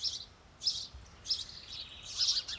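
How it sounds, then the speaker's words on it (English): Several birds chirp in quick bright bursts, repeated tweets spaced irregularly over faint background noise. "You can hear the birds. They're going crazy."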